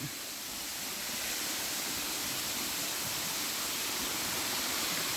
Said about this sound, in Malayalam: ഇതാണ് ശരിക്കും വാട്ടർ ഫോഴ്സ് ഈ ഭാഗത്ത് തൂമാനം വെള്ളച്ചാട്ടം എന്ന് പറയുന്ന ഇതാണ്